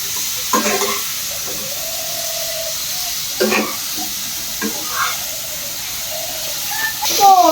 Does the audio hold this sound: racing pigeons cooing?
no